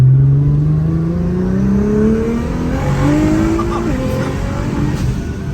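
A car engine revs hard on a winding road, loud and close, its pitch climbing steadily as it accelerates, then dropping briefly before rising again.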